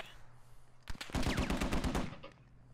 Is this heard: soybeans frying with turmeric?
no